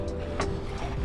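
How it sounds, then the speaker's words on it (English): Waves washing and splashing over a Recon 120 fishing kayak on Lake Pleasant, a steady close rushing wash with brief splashy surges. "That was the big waves."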